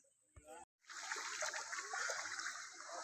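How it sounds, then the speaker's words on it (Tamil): Water runs from a tap in a forest area near Srivilliputhur, Virudhunagar district, as a steady, fairly loud splashing rush that starts after a short pause and continues to the end. "வாடா, கொஞ்சமாக வருதுடா தண்ணி"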